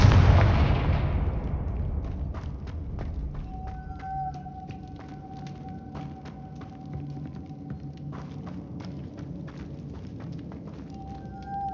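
The Confringo fire spell goes off in Hogwarts Legacy as one loud, close blast that fades into a long rumbling tail. Scattered crackles and game tones follow, with no talking.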